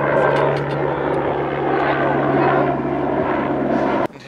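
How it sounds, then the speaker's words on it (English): A helicopter flies over mountains, its rotor and engine drone loud and steady throughout before cutting off abruptly near the end. "Oh, you can hear the helicopter."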